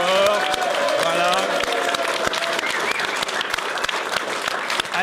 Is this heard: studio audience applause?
yes